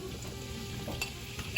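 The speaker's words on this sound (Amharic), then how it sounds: "አሁን ደግሞ እዚች ጋር ቀይ ስሬን የከተፍኳትን ዘይቱ በደንብ ግሏል ጨምራለሁ" Chopped red onion hits hot oil and sizzles in a pan while a red lentil stew is being made: a soft, steady frying hiss with faint stirring clicks and no talking.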